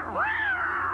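A cartoon cat gives a single rising-then-falling meow, close and clear, lasting under a second with no talk over it.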